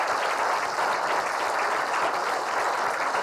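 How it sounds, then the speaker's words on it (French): A crowd at a competition ranking ceremony claps for a placed competitor, continuous moderately loud applause with scattered individual hand claps standing out across the few seconds. "Qu'on applaudit bien fort."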